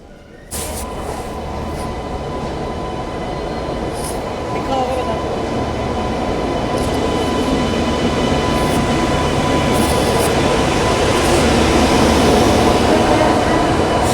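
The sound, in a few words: Hazrat Nizamuddin–Tirupati Sampark Kranti express train arriving at platform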